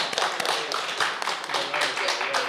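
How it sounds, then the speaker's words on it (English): Audience applause for a panel of faculty fellows at an academic symposium on digital learning, a dense burst of many hands clapping together, loud and steady for a couple of seconds with no break. "let us give a preemptive round of applause for these wonderful fellows"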